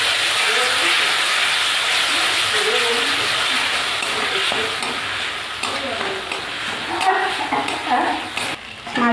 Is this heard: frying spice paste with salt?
yes